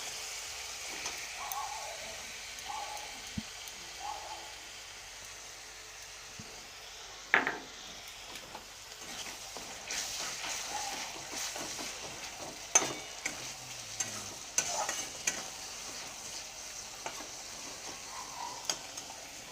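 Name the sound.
cooking tomato puree in frying masala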